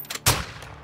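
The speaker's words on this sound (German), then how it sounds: "Saubere Schüsse" A single sharp video game gunshot from Call of Duty: Modern Warfare 2 story mode cracks out, preceded by a softer thump, in a quiet setting.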